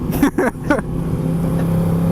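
A KTM RC8 motorcycle engine hums in a steady, buzzing drone close by, with a few brief voice-like bursts at the start.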